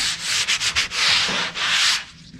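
Sandpaper rubs by hand across a kitchen cabinet door in a run of rapid back-and-forth strokes, with short pauses between bursts and no voices.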